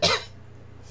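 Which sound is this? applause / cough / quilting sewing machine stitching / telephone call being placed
cough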